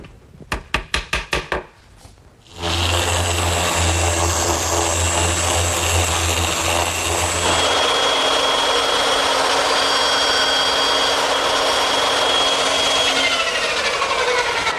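A power saw rips through a wooden shelf bracket for an umbrella stand: a few sharp taps first, then the motor spins up and cuts loudly and steadily, its pitch shifting as the blade works through the wood.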